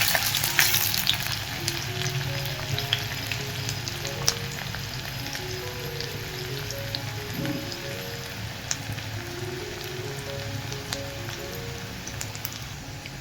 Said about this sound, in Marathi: तेल चांगलं गरम झालं की आपण त्याच्यात थोडासा कांदा घालूया। छोटासा कांदा घेतलाय मी चिरून। त्याला कलर येईपर्यंत आपण परतून घेऊया।